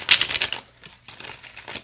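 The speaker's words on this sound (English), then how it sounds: "that shuffle's loud, you guys. These cards are really stiff." A deck of stiff tarot cards being shuffled close up, giving a loud crisp riffling flutter. It comes in two bursts separated by a short quiet gap.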